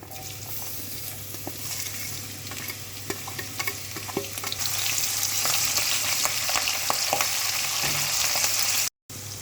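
Mustard seeds, cumin, a little fenugreek, shallots, curry leaves and dried red chilies tempering in hot oil, with a continuous sizzle and busy stirring clatter that grow louder halfway through, followed by a brief dropout.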